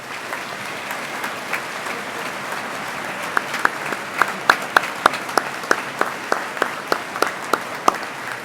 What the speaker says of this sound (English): give them all, the faculty, a great round of applause for everything that they have invested in you